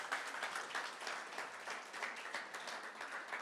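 A church congregation at a Sunday service applauds to acclaim the Lord, with steady, moderately quiet clapping from many hands that continues throughout.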